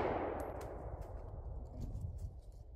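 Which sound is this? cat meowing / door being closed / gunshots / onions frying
gunshots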